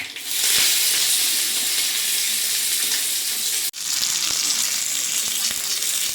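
Onion and curry leaves sizzle steadily in hot oil for a coconut chutney, a loud, continuous bright hiss broken by one brief dip before the frying resumes, with no talk over it.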